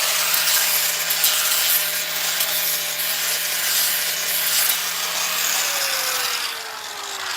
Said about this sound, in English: Sanding that up there